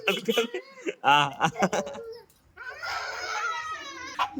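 Children shrieking and screaming while playing at home during a Gujarati family day, with sustained high, wavering cries in bursts, close and loud, mixed with talking and laughter.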